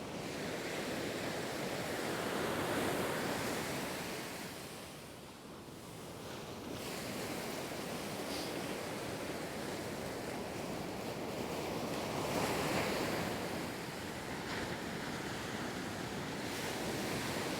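Strong wind on a beach sheltered behind a headland, a steady broadband roar with surf mixed in, swelling and easing gently with no talking.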